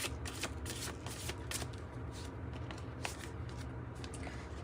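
Oracle cards from a spellcasting deck being shuffled by hand, a steady crisp riffling and flapping with repeated sharp card snaps, close and alone without talk.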